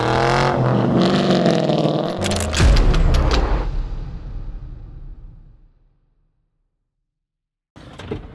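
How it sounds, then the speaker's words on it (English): A Ford Mustang Mach 1 with a Cobra motor cold-starts, firing into a loud, rumbling burst that flares up, then settles and fades to silence before a brief clunk. "Let's get this cold start going."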